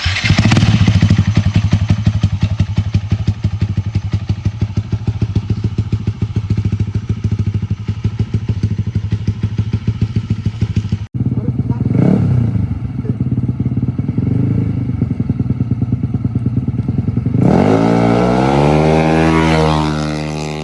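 A motorcycle built by WRT 27 revs loudly and steadily during a sound check. A brief cut comes near the middle, and sharp rising engine sweeps follow toward the end.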